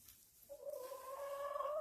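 A chicken in a roosting box with three birds lets out a drawn-out, rising cluck that starts about midway and holds to the end, close and fairly quiet, with no talking.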